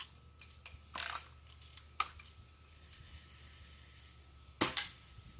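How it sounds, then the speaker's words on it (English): A BB gun fires at a piece of wood outdoors, with sharp snapping shots at about one, two and four and a half seconds, each followed by a brief tail, and faint ticks between them. "Alright, I'm gonna shoot it again. See if I can still hit it."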